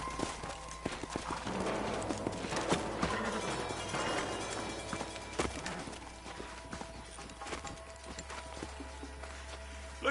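Horse hooves clip-clop in a steady trot across open ground in Red Dead Redemption, with a rhythmic patter of several horses, moderately close, and occasional tack rattles and game ambience underneath.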